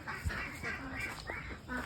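Thirteen-day-old ducklings quacking and peeping in a steady run of short calls over faint background noise, fairly quiet throughout, with no talking.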